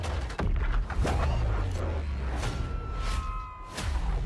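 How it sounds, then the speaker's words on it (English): Repeated booming video game explosions and whooshes overlap in a dense, loud barrage, with rumbling low end and sharp cracks every second or so. "We sure cause a lot of explosions."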